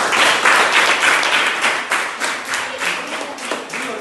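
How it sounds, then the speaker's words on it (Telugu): A classroom of students clapping together, a loud sustained round of many hands in quick irregular rhythm that eases slightly toward the end. "క్లాప్స్."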